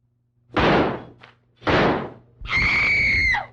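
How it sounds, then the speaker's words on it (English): A window being shut in an old murder-mystery drama: two loud broadband thumps, then a longer grinding scrape with a high squealing tone, all close and without speech. "Wait till I close that window."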